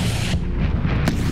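A grenade launcher fires with a single loud, heavy outdoor boom at the start, followed by a long rumbling tail and a second sharp crack just after one second.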